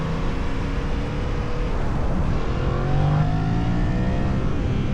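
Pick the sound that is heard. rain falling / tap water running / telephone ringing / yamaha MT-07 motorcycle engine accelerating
yamaha MT-07 motorcycle engine accelerating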